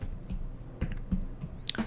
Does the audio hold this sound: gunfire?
no